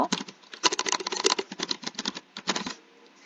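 Rapid bursts of keystrokes as a new password is typed on a computer keyboard, close and crisp, with a brief pause before a final short flurry and no talk.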